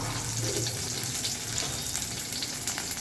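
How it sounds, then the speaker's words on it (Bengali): Green chilies and onion sizzling in a pan on the stove, a steady close crackle and hiss with light stirring scrapes throughout, no talking. "আমি চুলায় দিয়ে দিচ্ছি কাঁচামরিচ, পেঁয়াজ"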